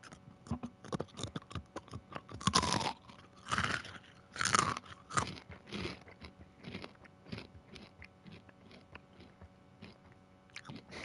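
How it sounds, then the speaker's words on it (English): Crunchy snacks are chewed loudly right into a close microphone, a steady run of crackling bites and wet munching with a few heavier crunches, no talking. "chewing on these things is way too loud"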